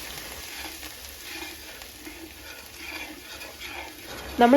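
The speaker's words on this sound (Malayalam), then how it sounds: "ഇഞ്ചി വെളുത്തുള്ളിയുടെ പേസ്റ്റ് നന്നായിട്ട് മൂത്ത് കഴിയുമ്പം ഓരോ പൊടികളായിട്ട് അമ്മ ഇടുന്നുണ്ട് അപ്പോൾ ആദ്യം തന്നെ മല്ലിപ്പൊടി ഇടുന്നുണ്ട്" Ginger-garlic paste and coriander powder fry in a pan with a steady, soft, hissing sizzle, ending on a brief louder clatter.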